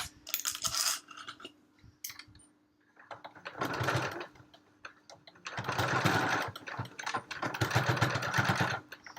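A sewing machine bastes across fabric for a library bag in several whirring runs of rapid needle stitching, separated by short pauses, heard close and alone.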